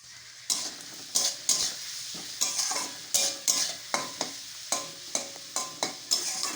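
A hilsa fish head frying with salt and turmeric in a pan, steady sizzling punctuated by a regular series of loud spatula scrapes and stirs, about two per second, close up.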